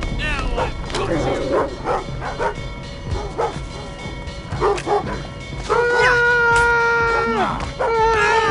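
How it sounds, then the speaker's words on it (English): A dog barks and yips repeatedly in the stealth video game Thief, in short bursts over game sounds while a player talks. "Oh, shut up, dog."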